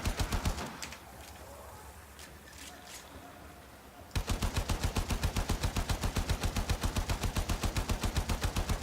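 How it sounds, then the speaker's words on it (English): Rapid laser cannon fire in Warframe, starting with a few bursts, then a sustained rhythmic stream of sharp repeating shots, loud and dense. "I'm just standing here with my laser cannon."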